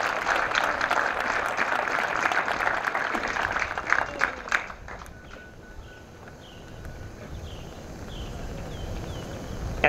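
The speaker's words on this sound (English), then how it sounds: "A round of applause for all our distinguished guests and command staff." Applause from the audience at an LAPD recruit officer graduation ceremony, honoring distinguished guests and command staff, with sustained clapping for about five seconds that then fades into quiet room ambience.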